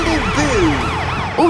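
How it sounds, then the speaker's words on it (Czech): Ambulance siren from an animated cartoon about rescue trucks, a loud wailing two-tone sweep rising and falling repeatedly in steady cycles, close and continuous over a faint bed of background music. "sanitka má pohotovost"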